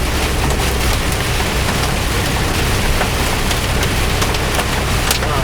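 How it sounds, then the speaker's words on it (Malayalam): A hailstorm with heavy rain pounding on a semi truck on a Florida road, a loud dense unbroken roar with scattered sharper impacts and no voices. "നല്ല കാരണത്തിൽ ആലിപ്പഴം വീഴുന്നുണ്ട് കേട്ടോ"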